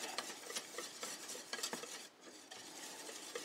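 A flour roux for mac and cheese being stirred in a pan over moderate heat, rapid scraping and tapping of a utensil over a soft sizzle, quiet and close with a brief lull midway and no talking.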